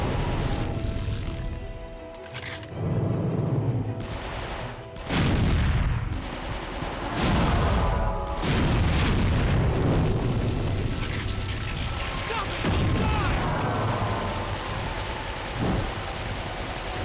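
Video game submachine gun fire comes in dense rapid bursts mixed with booming impacts and explosions, loud and continuous with short pauses between volleys, and no talk.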